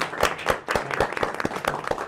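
Audience at a celebration event claps for the team in a steady, rhythmic pattern of sharp, evenly spaced beats, loud and close, with no voices over it.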